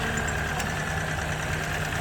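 A 2004 Lexus LX idles with the bonnet raised, giving a steady, even engine hum and light mechanical clatter with no voices.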